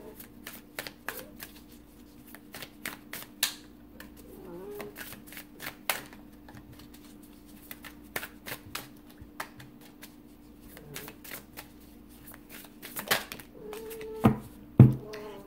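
Tarot cards being shuffled and drawn, a dense run of soft riffling flicks and slaps at close range, with a few sharper card snaps near the end and no talking.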